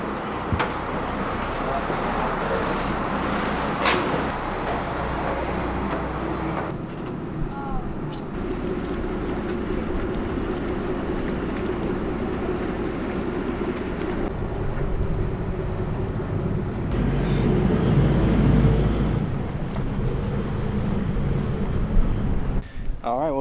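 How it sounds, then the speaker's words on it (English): Ferry ride from an island with no cars: wind buffets the microphone over a steady low engine rumble and water noise, continuous throughout and growing a little louder toward the end. "Let's get on this ferry."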